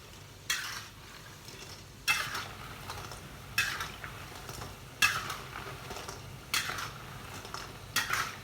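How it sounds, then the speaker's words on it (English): Punugulu, small batter fritters, deep fry in hot oil. A faint bubbling sizzle runs underneath sharp metal scrapes and clatters from a spoon, which come roughly every second and a half. No one speaks. "when the bubble stops, it means that the punugulu are fried properly inside also"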